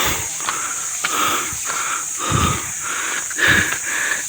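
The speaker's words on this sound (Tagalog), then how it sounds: "naririnig nyo naman, hinihingal ako" A hiker on a crowded trail breathes heavily and close to the mic, with rhythmic wheezing pants in and out at roughly one-second intervals over a steady outdoor hiss.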